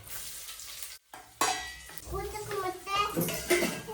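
Shallots hit a hot pan for fish curry and fry with a crackling sizzle after a brief pause, punctuated by stirring and utensil clinks while people talk nearby.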